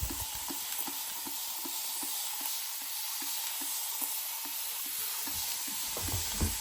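A spray bottle misting water over indoor plant clones gives a steady close hiss with faint rhythmic ticking throughout.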